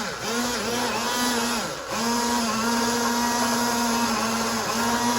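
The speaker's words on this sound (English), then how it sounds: "Now we're gonna take this tool, which is an immersion blender." An immersion blender pureeing soup whirs steadily at high speed, a loud continuous motor drone with a brief dip in pitch midway, close by.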